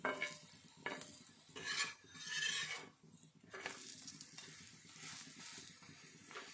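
A coriander-leaf paratha cooking slowly in a little oil on a pan, with soft intermittent sizzling and scraping of a spatula, rising and falling in gentle bursts, quiet and close.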